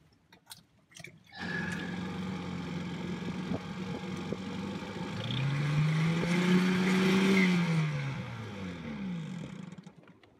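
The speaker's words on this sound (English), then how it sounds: "The outboard seems to run fine for a little while, and then it suddenly chokes" Outboard motor on a dinghy, with a carburetor that floods and then loses power, runs steadily at a low drone for several seconds, rises in pitch and loudness midway, then falls back before cutting out near the end.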